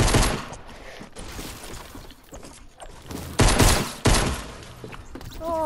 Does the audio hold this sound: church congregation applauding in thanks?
no